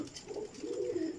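Pigeons on a rooftop coo softly and close, a low rolling call repeating over faint outdoor background noise.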